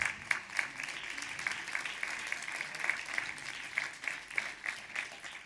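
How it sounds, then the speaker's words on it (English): Audience applause fills a hall at the start of the ALMA Journey results and reflections event, a steady run of hand claps at moderate distance with no talking over it. "I think it is a good idea to have an applause before we start."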